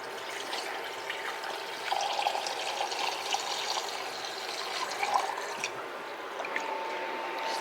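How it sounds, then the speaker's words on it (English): Water poured steadily into a pot while making tomato soup with bouillon base, a continuous splashing, trickling pour with a few brighter surges, close and moderately loud with no talking. "I'm going to need another cup of water."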